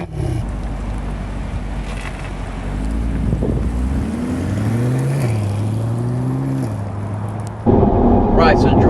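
Chevy Corvette C8 sports car on the move, its engine rumbling low and steady with rising and falling pitch as it accelerates, wind and road noise throughout, a louder surge near the end.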